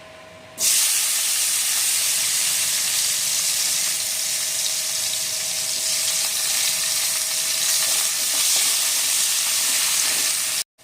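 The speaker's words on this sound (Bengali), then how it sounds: "পেঁয়াজটা ভাজার সাথে সাথেই বন্ধুরা আমরা দিয়ে নেব চিনি এর মধ্যে" A medium chopped onion fries in hot oil in a pan with cinnamon and bay leaves, the base for a Bengali katla fish kalia, making a steady, loud, close sizzle with no talk.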